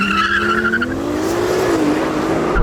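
A Lamborghini Temerario and a Ferrari 296 launch side by side in a drag race. Loud, close engines rise in pitch as they rev up, with a tire squeal early on and a continuous roar through the launch.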